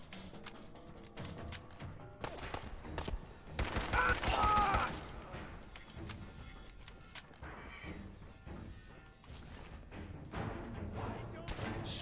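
Dense Fallout 4 gunfire rattles inside an assembly plant, with overlapping shots and crashes that peak in a heavy volley midway and then continue as scattered, echoing fire.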